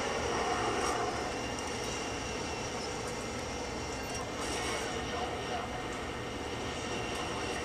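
A Harrier jet in a video game gives off a steady, loud broadband roar that continues through the whole stretch with little change.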